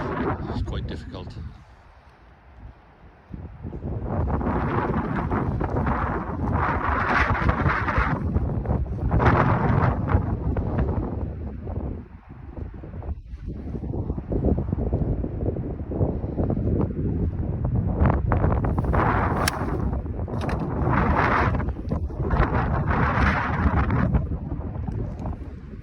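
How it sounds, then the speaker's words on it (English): Gusty wind of around 30 mph tears across an open golf course, loud roaring blasts against the microphone that rise and fall in surges with short lulls between them. "150 yards in, straight into wind, and it's blowing to every 30-mile-an-hour gusts."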